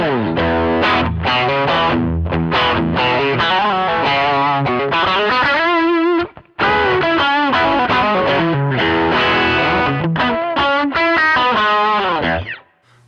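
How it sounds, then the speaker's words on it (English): Electric guitar played through a Line 6 Pod Express with the Tube Screamer maxed, giving loud, saturated distorted riffs and sustained chords that ring almost continuously, broken by one brief pause midway. "And let's max out the tube screamer."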